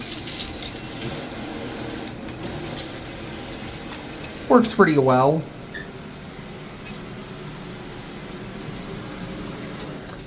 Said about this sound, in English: Of course, you got multiple modes for the shower.